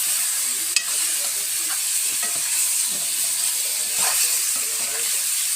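Meat stirred with cardamom pods frying in a pot, a steady close sizzle and hiss with intermittent scraping stirs across the whole stretch.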